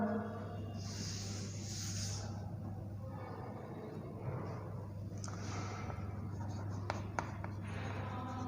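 Marker or chalk writing on a board during a basic electricity lesson, with scratchy strokes running through the clip over a steady low mains hum, fairly close and moderately loud, with no talk.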